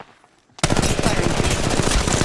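Quiet gives way to sudden, loud, continuous rapid-fire machine gun bursts in the mobile battle royale Apex Legends Mobile, a dense rattling stream lasting to the end.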